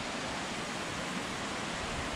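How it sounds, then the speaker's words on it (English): Waterfall at Blue Hole in Tennessee, a steady broadband rushing hiss that stays even and unbroken throughout, fairly faint and heard alone without voices. "Did you get the shot of the waterfall?"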